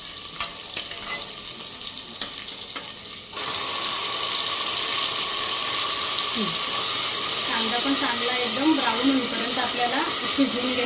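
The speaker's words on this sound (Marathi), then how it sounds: "थोडासा लसूण आता परतून घेते मी आणि आता ह्यामध्ये मी कांदा घालते" Onion and garlic frying in hot oil for an Aagri-style mutton paya gravy, a steady close hiss and sizzle that thickens after a few seconds when the onion goes in, with faint stirring scrapes and a voice in the background.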